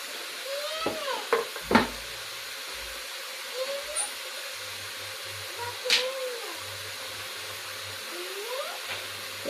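Brinjal pieces cook on high flame in a pan for an Andhra-style curry, giving a steady, moderately loud sizzling hiss with a few sharp clinks and scrapes from stirring.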